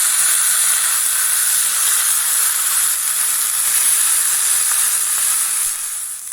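Pork slices for Portuguese bifanas sizzle loudly in a hot pan after being flipped, a bright, constant frying hiss close to the microphone that holds steady and eases slightly at the end.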